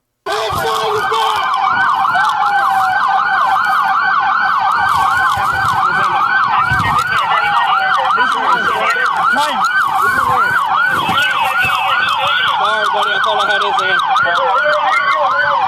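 Sirens of police cars chasing a box truck wail loudly and continuously, rising and falling in rapid overlapping cycles, close by and sustained throughout.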